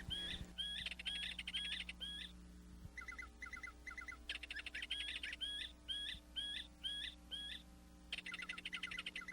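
Grackles and red-winged blackbirds calling around reed nests in Phragmites surrounded by water, a busy run of repeated sharp, squeaky whistled phrases and chirps, fairly close and loud over a faint steady hum.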